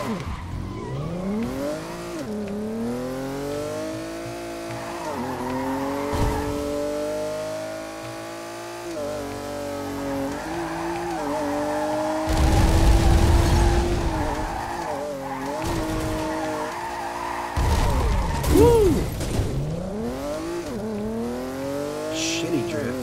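Cars drifting in the racing video game Ridge Racer Unbounded, with a loud engine whine rising and falling and long tire squeals that come in repeated sweeps, plus bursts of rumbling impact noise, all up close.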